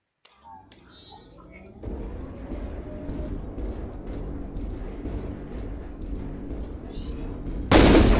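AC-10 autocannons firing in the mech combat game MechWarrior Online, a dense sustained roar of heavy weapon fire and mechanical rumble that ends in one sudden loud blast.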